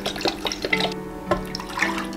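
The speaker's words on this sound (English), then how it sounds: "So 100 mils of water." Water pours into a pot while a Christmas drink is being prepared, a soft, close trickle with small splashes and dripping that runs briefly and alone.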